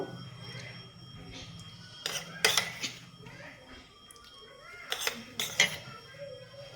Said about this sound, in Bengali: আমি বড় চামচে একটা চামচ ঘি নিয়েছি